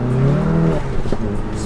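A tuned VW GTI MK7.5 on E30 pulls hard in second gear, a loud close engine note that climbs in pitch, then breaks into a rougher burst as the tires spin.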